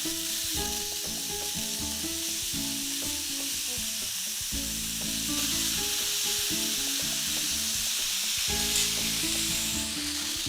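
Pork steaks frying in a pan, a loud continuous sizzle with bursts of spatter and stirring noise, close up and without talk.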